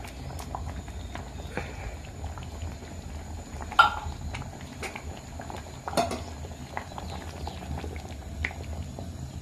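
Misua noodle soup with sardines simmering in a pot, a quiet continuous bubbling with faint clinks of a utensil against the pot and a couple of sharper taps.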